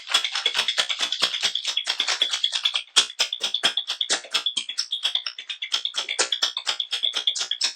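A spiced rum cocktail with stout and vermouth shaken hard in a cocktail shaker at The Lobo bar, giving a fast, steady, close rattle of sharp clicks that runs without a break.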